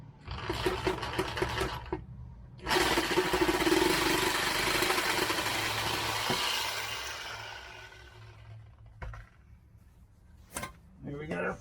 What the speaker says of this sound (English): So get the old sawzall.